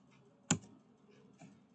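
Computer keyboard keys pressed while entering an Excel formula: one sharp close click followed by a fainter keystroke about a second later, in a quiet room.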